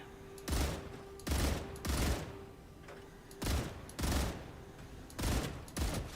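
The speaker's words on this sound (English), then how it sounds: "we're taking pot shots at the world's largest cockroach, quite literally" Bursts of gunfire aimed at a giant cockroach in the video game StarRupture, roughly seven loud broadband volleys in an uneven rhythm, each lasting about half a second, with no talk between them.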